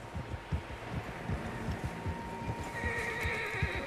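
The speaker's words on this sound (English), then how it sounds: "Horses, quite a few of them." Horses in Red Dead Redemption 2 whinny and snort over a steady, rhythmic clip-clop of hooves, with a faint tonal hum in the background.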